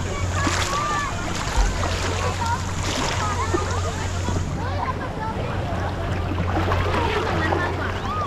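Artificial sea waves roll through the wave pool at Siam Park in Bangkok, making a continuous rushing wash with splashes and a low steady hum, while people's voices mix in nearby.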